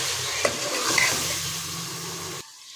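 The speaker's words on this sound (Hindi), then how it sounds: "उसको हम भून लेते हैं पहले" Chicken with spices and turmeric sautés in a pan for chicken chana daal, giving a steady close sizzle with a couple of utensil scrapes and clinks before the sound cuts off abruptly near the end.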